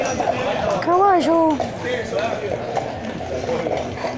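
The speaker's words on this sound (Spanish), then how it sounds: "Caballo." Horse hooves clip-clop on pavement during the changing of the guard in central Lima, a few scattered steps heard under people talking nearby.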